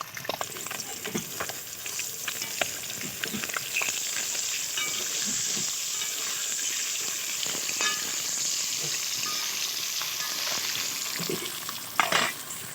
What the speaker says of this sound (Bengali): ডিমগুলো একসঙ্গে আর ভাজা করে নেবো।